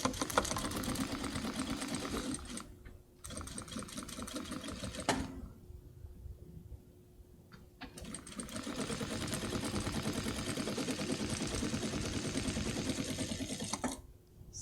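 A Titan 8700D sewing machine stitches in long, fast, steady whirring runs broken by brief pauses, close and moderately quiet, with no talking.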